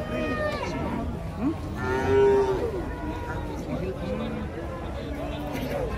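A giant cow moos as it comes down from a truck amid a noisy crowd, with one clear bellow standing out over constant chatter and background babble.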